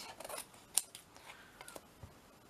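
Scissors snip through paper during mixed media collage crafting, giving a few quick, close cuts with a sharp snap near the start, then quieter rustling, with no talking.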